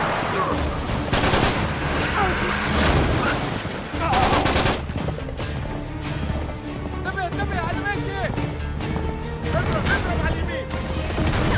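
Bursts of automatic gunfire crackle in Uncharted 3, dense volleys in several bursts alongside galloping hooves and game effects, with someone talking over the action.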